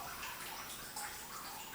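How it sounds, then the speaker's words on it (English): Water drains and trickles from wet paper fiber resting on a papermaking mould, a soft, steady, faint dripping and gurgling close by with no voices. "Once enough water is drained off the fiber, I can remove the decal"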